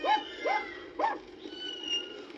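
A dog whimpers close by with three short, rising whiny yelps in quick succession, followed by a thinner, drawn-out high whine.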